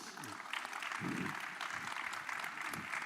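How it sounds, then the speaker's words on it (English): Applause from a conference audience for a panel, a steady wash of clapping that carries on throughout with a few faint voices underneath. "Please do give them a round of applause."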